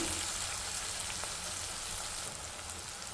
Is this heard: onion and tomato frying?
yes